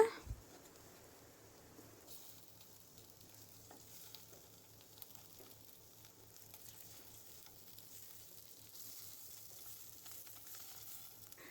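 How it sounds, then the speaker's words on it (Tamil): Egg masala frying in a pan, a soft steady sizzle with occasional stirring and scraping, continuous at low level with no talk. "நல்லா ஃப்ரை ஆனதுக்கப்புறம் திருப்பி விட்டுக்கோங்க."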